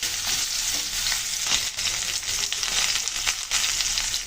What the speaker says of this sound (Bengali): কাঁকরোল দিয়ে ভালো করে ভেজে নিচ্ছি।